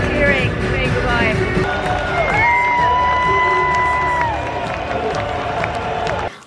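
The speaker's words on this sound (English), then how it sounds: "Cheering, saying goodbye." A stadium crowd at the close of a rugby match, loud and broad with rising shouts and cheers, several sustained whistle-like tones cutting through, before the noise cuts off abruptly at the end.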